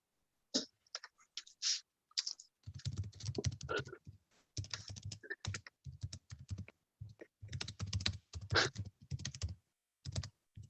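Typing on a computer keyboard, with rapid irregular bursts of key clicks that come close and fairly loud, broken by short pauses and no talking.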